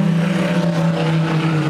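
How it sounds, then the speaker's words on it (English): A race car engine idles loud and close during a pit stop at the Rolex 24 at Daytona, a steady low rumble with a buzzing overtone throughout the short moment. "you can hear the car fire up"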